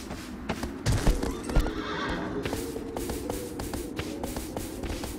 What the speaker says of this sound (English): Oh, I'm turning my horse the wrong way.